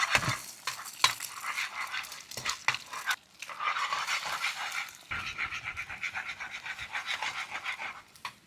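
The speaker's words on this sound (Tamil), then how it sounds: "இப்போ நம்ம முட்டையை அடித்து வீத்த போகிறோம்." Eggs are beaten briskly in a bowl with rapid, uneven clicking strokes, then poured into hot oil, where a steady crackling sizzle takes over and continues to the end, with no talking.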